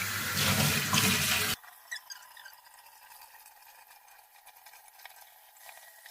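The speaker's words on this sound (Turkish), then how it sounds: "Evet şimdi yeşilliklerimizi de yıkayalım." Kitchen tap running hard into a sink while salad greens are washed, a loud gushing stream for about a second and a half that cuts off abruptly, leaving faint drips and light handling sounds.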